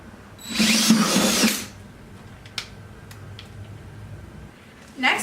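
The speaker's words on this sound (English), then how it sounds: "now you're going to drill a 7/8 hole in the center" A power drill boring a 7/8-inch hole in the center of a bucket whirs loudly for about a second, then cuts off, leaving faint clicks and small handling noises.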